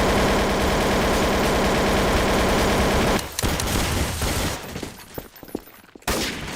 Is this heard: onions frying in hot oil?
no